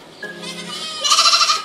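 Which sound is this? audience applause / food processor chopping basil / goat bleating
goat bleating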